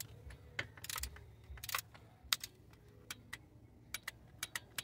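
A torque wrench clicks as it reaches 11 foot-pounds while tightening an oil pressure switch on a Toyota/Scion engine, heard as a few sharp, close metallic clicks and scattered ticks at a fairly quiet level.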